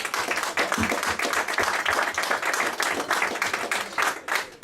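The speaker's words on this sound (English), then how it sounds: "big round of applause for all those people that make this happen." Audience applause at a live pitch event, steady dense clapping that fills the room at a loud, even level for several seconds with no voices on top.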